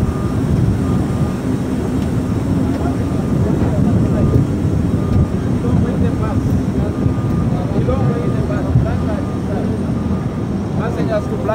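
A passenger airplane that carried travellers to Malawi roars steadily on the ground nearby, a loud continuous engine drone with no breaks across the whole stretch.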